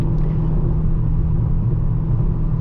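A 2020 Dodge Challenger Scat Pack Widebody driving, a steady, loud low engine and road rumble heard from inside the car, unbroken throughout.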